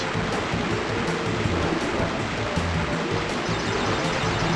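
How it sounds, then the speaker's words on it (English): Heavy rain in the Ruination level of Crash Bandicoot 2 hisses steadily as a dense, even wash of noise, with a low rumbling layer of game ambience underneath and no voices. "I like the touch with the heavier rain during this part"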